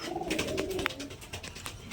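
Soft pigeon cooing murmurs in the background at a pigeon market stall, low and repetitive, with faint clicks and a brief chirp.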